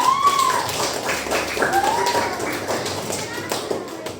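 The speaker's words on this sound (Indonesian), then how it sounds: "Beri tepuk tangan dulu dong." Children in a classroom clap their hands together in scattered, uneven taps, moderately close, with voices and other classroom noise mixed in around the clapping.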